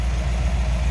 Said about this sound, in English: 272 Ford V8, dual exhaust. And that distinctive sound.